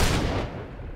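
A musket volley in the Holdfast: Nations at War video game, a loud rolling burst of massed gunfire that hits at once and fades over about a second.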